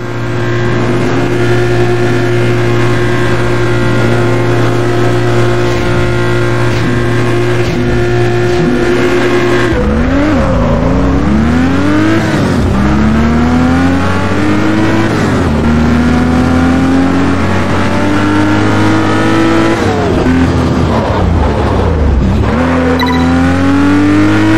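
Race cars competing in Test Drive Unlimited 2, loud continuous engine drone with repeated revving rises and gear-shift drops, steady and close throughout.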